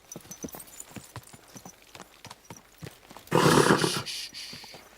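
Hooves clip-clop in a steady walking rhythm from a horse in the video game Kingdom Come: Deliverance 2, then a sudden loud burst of noise like a snort or whinny swells in near the end.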